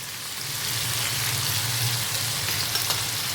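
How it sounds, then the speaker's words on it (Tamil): Fish frying in oil in a pan over a medium flame in a Tamil home kitchen, a steady close sizzle and crackle that holds level throughout with no talk. "இன்னொரு பக்கமும் ஒரு 2லேருந்து 3 நிமிஷம் மீடியம் ஃப்ளேமில் நல்லா ஃப்ரை ஆகட்டும்."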